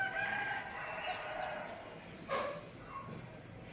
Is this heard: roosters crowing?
yes